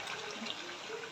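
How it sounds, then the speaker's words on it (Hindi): Continuous splashing rush of water poured close by into a cooking pot for potato and pea curry, steady and fairly loud for the whole short moment. "अब हम इसमें डालेंगे पानी अपनी ज़रूरत के मुताबिक।"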